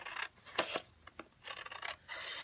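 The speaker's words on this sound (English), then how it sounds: "I'm just going to use my scissors for some of these." Scissors snip repeatedly through paper, a series of short crisp cuts at close range with brief pauses between.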